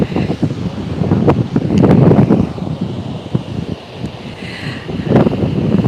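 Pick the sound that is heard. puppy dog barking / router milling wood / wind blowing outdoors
wind blowing outdoors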